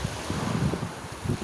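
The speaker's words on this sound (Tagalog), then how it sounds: "At saka mahangin din. Ayan, sobrang hangin." Strong wind roars across a microphone at the seashore in bad weather, a constant broadband rush with low buffeting gusts, loud and close throughout.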